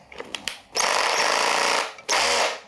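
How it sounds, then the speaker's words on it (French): A Parkside PBHA 12 A1 cordless SDS-plus hammer drill runs in two bursts, a loud, close rattling hammer action that rises sharply and stops, after a few clicks of handling. "une bonne petite machine qui peut faire perceuse, visseuse et marteau perfo à 1 joule"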